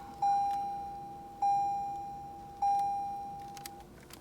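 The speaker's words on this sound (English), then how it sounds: "Let's go ahead and just switch it on. You get 4 beeps." Three clear electronic key-on beeps from a 2021 Toyota 4Runner Trail Edition, evenly spaced and sustained, each fading slowly against a quiet background hum.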